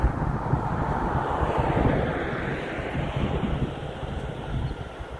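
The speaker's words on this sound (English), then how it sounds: "The wind is really picking up" Strong storm wind buffets the microphone over Adelaide, South Australia, a steady loud broadband roar with gusty swells and no voices.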